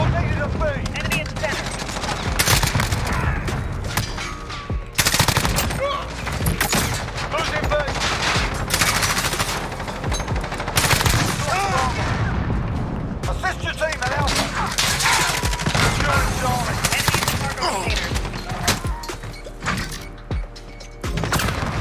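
Rapid bursts of M4A1 rifle fire rattle almost nonstop in Modern Warfare, loud and close, with brief pauses between volleys and occasional impacts, while a player talks now and then.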